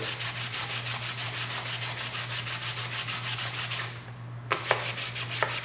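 Metal being sanded by hand with sandpaper, a steady rhythmic back-and-forth rasp of even close strokes, pausing briefly near the end before a few more strokes, over a constant low hum.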